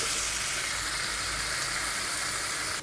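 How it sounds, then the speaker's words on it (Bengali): A spice paste of tomato and ginger sizzles steadily in a hot pan, a loud, continuous frying hiss throughout that cuts off abruptly at the end. "মশলা ভাজা হোক।"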